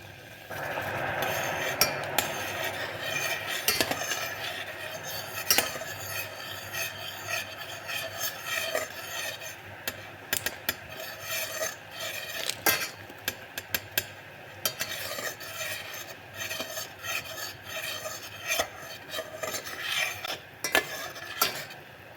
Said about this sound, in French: Je continue de mélanger un peu pour dissoudre